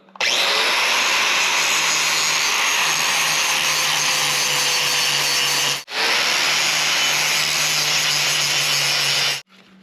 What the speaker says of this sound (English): let's go ahead and grind this up